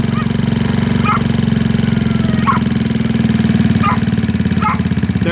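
A GY6 scooter engine idling during carburetor idle adjustment, a loud close steady putter with a slightly uneven, choking rhythm running through the whole clip.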